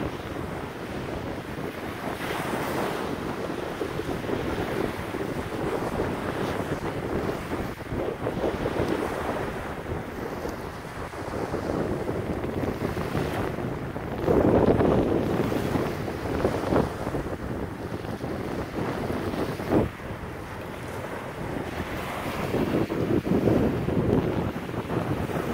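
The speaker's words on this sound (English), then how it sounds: "Oh, those winds" Wind gusts and choppy waves roll across a river, a loud continuous rush with buffeting wind noise on the microphone and surging swells throughout.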